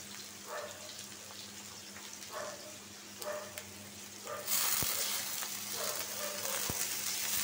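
Chicken frying with spices in a pan sizzles steadily, then a splash of water hits the hot oil about halfway through and the sizzle bursts into a loud, continuous hiss for the rest of the clip.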